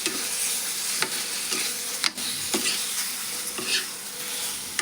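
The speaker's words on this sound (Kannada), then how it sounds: "ಈ ಥರ ಫ್ರೈ ಮಾಡ್ಬೇಕು ನೋಡ್ರಿ ಇದನ್ನು." Capsicum stir-fried with crushed cumin in a pan gives a steady close sizzle, broken every second or so by scraping stirs of the spatula through the pieces, with no talking.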